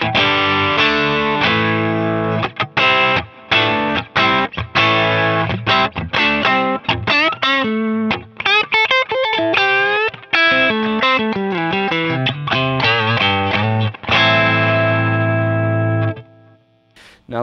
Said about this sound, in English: Let's turn some overdrive from Klon Centaur, which is running after the compressor